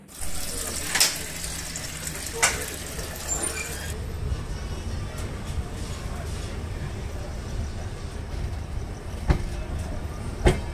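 The Okha Puri Express, a train with new LHB coaches, stands at Hapa railway station, giving a continuous low rumble with a few sharp clanks and hisses while people talk nearby.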